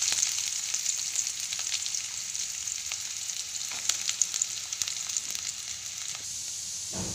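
Sliced onions frying in oil with peanuts, urad dal and mustard seeds, a steady close sizzle with a few stirring clicks throughout, no talking.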